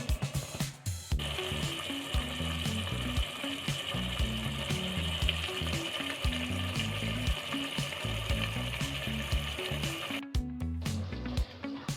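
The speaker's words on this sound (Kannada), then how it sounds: "ಈ ಥರ ಮಿಕ್ಸ್ ಮಾಡ್ತಾ ಇರಿ. ಈ ತರಕಾರಿ ಎಲ್ಲ ಒಂದು 5 ನಿಮಿಷ ಬೇಯಲಿ." Vegetables for a vegetable pulao frying and being stirred in a pan, giving a soft steady sizzle with faint scraping and clinks, quiet and close, ending with a few sharper knocks.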